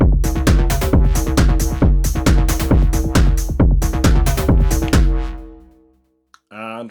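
An Elektron Analog Rytm drum machine plays an example pattern of punchy, rhythmic analog drum hits for about five seconds, then rings out, followed by a short isolated sound near the end.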